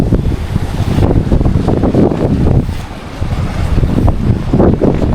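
Strong wind on a small island buffets the microphone in loud, continuous rumbling gusts that ease briefly midway before surging again.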